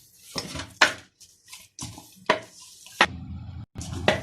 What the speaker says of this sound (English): Keep on kneading until it's formed into a ball, because this bowl is extremely noisy.